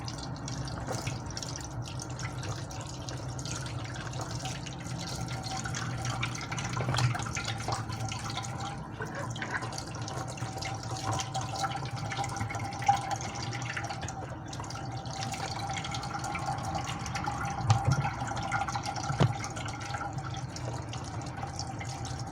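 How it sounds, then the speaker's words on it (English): Summer squash is washed under a running kitchen tap, giving a steady, soft stream of water with faint splashes and drips throughout, close and alone. "I'm going to take the summer squash and I'm going to wash them."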